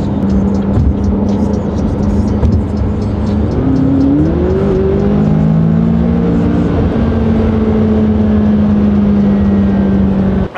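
McLaren 570S sports car engine heard from inside while driving, a loud steady drone whose pitch climbs through gear changes and then holds at speed, with no talk.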